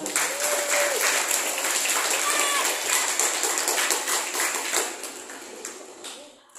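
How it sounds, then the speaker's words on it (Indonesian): Loud, sustained applause from a crowd at a Syarhil Qur'an competition, dense clapping that carries on for several seconds before tapering off toward the end. "tepuk tangan untuk seluruh peserta"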